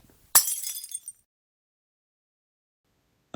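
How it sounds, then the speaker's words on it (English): A pane of glass shatters in one loud close crash, bright shards tinkling and scattering for about half a second before falling silent. "You've successfully created a shattering glass effect in Blender."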